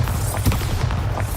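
A Bombarda blast spell goes off in Hogwarts Legacy, a booming burst near the start followed by a rumbling, crackling tail with a second thump, loud and close, with no talking.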